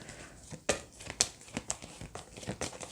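Oracle cards being handled during a tarot reading, giving a few soft papery crinkles and flicks at irregular moments, close and fairly quiet.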